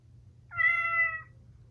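A Chongker MateCat Pro interactive robot cat gives a single clear, tonal meow lasting under a second, standing alone above a low background hum.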